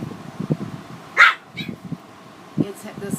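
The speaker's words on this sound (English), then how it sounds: "Sorry for the barking." A dog barks a few times nearby, short sharp yaps mixed with whimpery sounds, under faint background talk.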